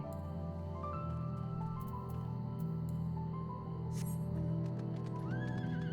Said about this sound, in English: Horsey again.